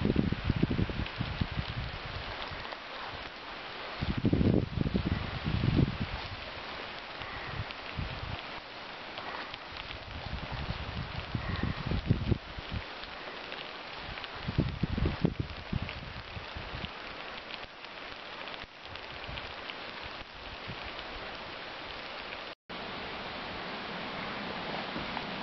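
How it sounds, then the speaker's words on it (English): Heavy rain hisses down steadily in a broad wash of noise at a cabin build site, with occasional louder thumps and rustles close by. "Still raining like crazy."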